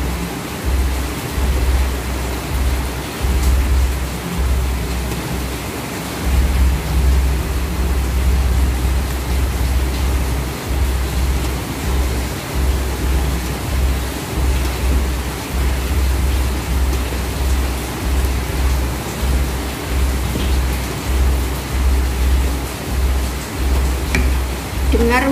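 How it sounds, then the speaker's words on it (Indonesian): Heavy rain that has kept pouring since the day before, falling in a steady, dense broadband roar that stays loud and continuous throughout, with faint kitchen clatter beneath it. "Dengar hujan nggak ya, sahabat-sahabatku? Derasnya, masya Allah, mulai kemarin loh."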